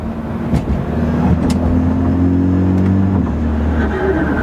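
A BMW with a Bootmod3 transmission tune accelerates hard, its engine note climbing steadily with quick paddle shifts breaking the pull near the end; loud and close, with no talk.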